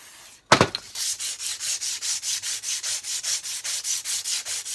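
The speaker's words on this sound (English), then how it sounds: "we'll be through now into that aluminium and polishing that pitting out" Wet sanding aluminium on a Yamaha XS500 motorcycle to polish out pitting, after a short knock, makes a rhythmic back-and-forth rubbing, about four even strokes per second, close and fairly quiet.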